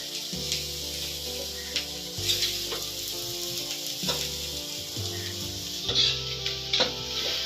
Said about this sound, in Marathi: हे बघा अजूनही आम्ही फ्रायच करतोय. थोड्या वेळ तरी फ्राय करायचं आहे.